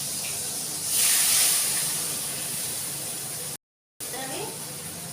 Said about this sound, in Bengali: এখন ডালটা আমি দিয়ে দিচ্ছি।